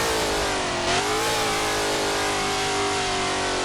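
Pagani HP Barchetta engine revving in the Roblox Driving Empire game, a loud, sustained high-pitched engine whine that swells briefly and then holds steady, heard close with no talk.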